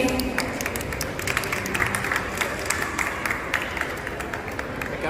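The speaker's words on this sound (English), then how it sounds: "a big round of applause" Audience at a mall launch event for a no-plastic initiative applauding, steady crowd clapping with sharp individual claps standing out, fairly close and moderately loud throughout.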